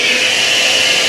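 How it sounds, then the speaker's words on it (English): A shop vacuum runs steadily in a garage workshop, a loud, continuous broadband whoosh held close by with no variation and no talking. "On the switch here, you can already hear I have a vacuum."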